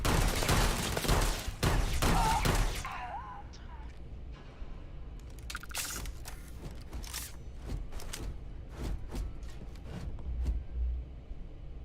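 Gunfire in the video game Starfield: rapid, loud bursts of shots for the first few seconds, then scattered single sharp cracks spaced apart over a quieter background.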